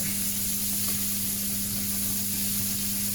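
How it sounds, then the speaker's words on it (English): Butter sizzling and foaming in a hot pan at a rugby club cook-along, a steady close crackling hiss that holds without pause, with a faint constant hum beneath. "we're just going to take that down to where we see the butter actually turn to what we call a foaming stage"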